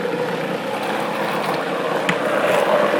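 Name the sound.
blender spinning a green smoothie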